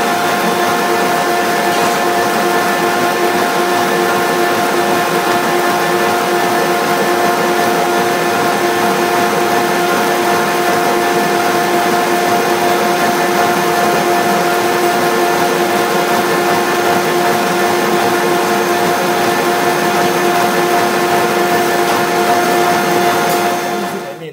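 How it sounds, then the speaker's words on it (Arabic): A blender whirs steadily as it mixes a sugar mixture, a loud, even motor drone that runs without a break for about twenty-four seconds before cutting off at the end, with no voices. "صافي انا غادي نطلع دابا هاد الخليط هذا"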